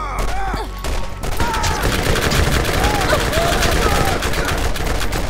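Rapid video game gunfire in Borderlands rattles continuously, loud and close, with a brief pause near the start and voices chattering over it.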